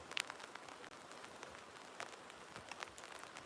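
Light early-morning rain falls in a rural Punjab village, faint scattered drops tapping close by over a quiet, soft patter.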